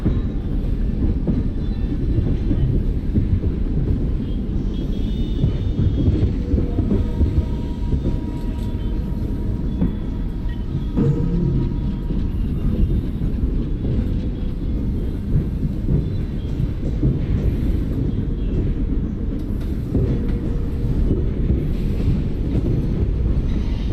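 A tanker goods freight train rolls past in a railway simulator game, a steady low rumble with faint rhythmic wheel clatter throughout, close and continuous.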